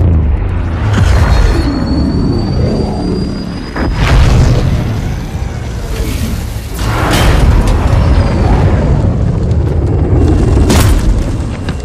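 Rocket launcher blasts in the shooter game Halo 2 Anniversary, set in a city level, with deep, loud booms rolling over a constant roar of battle, several heavy impacts spaced a few seconds apart.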